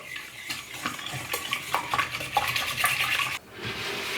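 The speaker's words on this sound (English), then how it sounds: "I'm just going to lightly mix these together. You could use a hand mixer if you want to, but I find a whisk is just as good" Eggs and yolks being whisked together by hand in a bowl, a steady run of fast, close clinking wire strokes against the bowl, with no talking.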